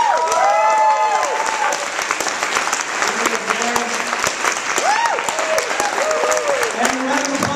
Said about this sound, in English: Let's give another round of applause for our readers.